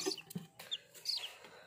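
A newly hatched native chicken chick lets out a few faint, high chirps and soft clucks while being picked up, with short separate calls and quiet gaps between them.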